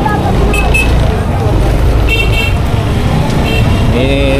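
Busy road traffic on the way back to Navotas, with a steady engine rumble, several short car horn toots, and people talking nearby under the noise.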